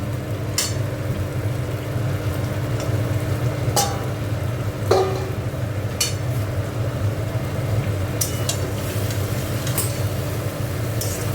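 Cauliflower frying in a pan for a vegetarian roast, with cashews in the pan, gives a steady close sizzle throughout, broken by scattered sharp clinks and scrapes of stirring.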